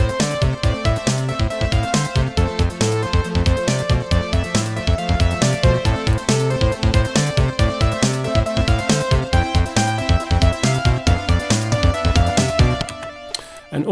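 Korg M1 synth lead with an arpeggiator underneath, retro Mega Man style game music, playing a dense, steady rhythmic loop at full level that cuts off just before the end.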